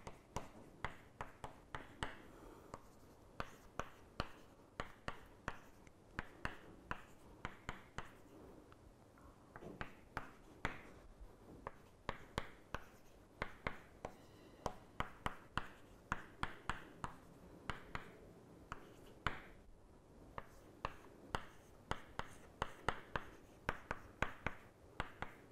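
A pen or chalk scratches and taps steadily as mathematical equations are written out, a continuous run of close, quiet strokes and clicks at an uneven, busy rhythm.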